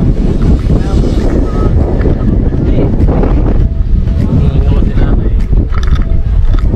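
Strong wind roars and buffets the microphone continuously, loud and rough, with faint voices and water noise underneath.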